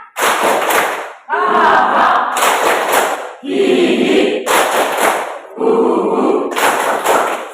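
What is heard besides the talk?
group doing a rhythmic spirit clap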